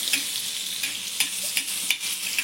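Vegetables sautéed in butter on a hot iron griddle give off a steady, close sizzle, with sharp scraping clicks from stirring every half second or so and no voices.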